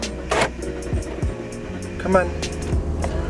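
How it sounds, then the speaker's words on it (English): A Mitsubishi 3000GT VR4 engine cranks in a few uneven pulses before catching and settling into a rough idle nearby, while a voice mutters briefly over it. "Oh, it almost didn't start."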